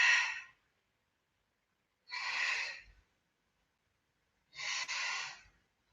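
Three slow, deep breaths during a Pilates balance pose on one knee and foot, each a soft, close airy exhale about two seconds apart, separated by silence.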